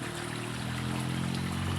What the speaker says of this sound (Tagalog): Tatanggalin ko lahat pala ng tubig na nasa loob ng pan number 1